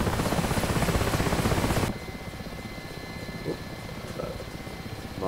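The rotor and engine of an Mi-8 helicopter in DCS World throb loudly and rhythmically at first, then the sound drops abruptly to a quieter steady engine hum with a few faint clicks.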